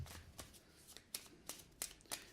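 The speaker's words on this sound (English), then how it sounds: "let's first shuffle the decks." Decks of game cards for a Mythic Battles Pantheon board game being shuffled by hand, a run of crisp riffling bursts arriving every few tenths of a second, close and fairly quiet with no talking.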